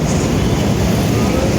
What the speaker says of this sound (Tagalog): kung hindi nyo naririnig, nasa highway kami